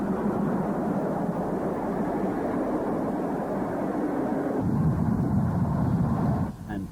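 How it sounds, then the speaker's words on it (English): A rebuilt West Country class steam locomotive, 34040 Crewe, is piloted by a BR standard locomotive in archive footage, giving a loud, continuous roaring rumble that shifts in character partway through and drops off at the end. "Rebuilt West Country class number 34040, Crewe is also piloted by a BR standard locomotive."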